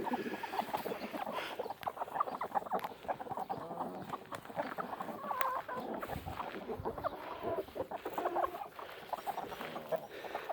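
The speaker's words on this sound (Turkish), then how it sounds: "Evet arkadaşlar kurt tavuğumuz bu." Busy, continuous clucking from several chickens close by, a dense layered chatter of short calls with no talking over it.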